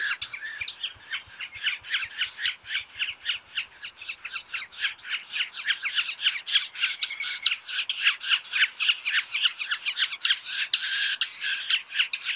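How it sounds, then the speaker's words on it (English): Many birds call at once in a dense, continuous chorus of squawks and chirps that grows louder and busier over time. "Lots of birds in this audio."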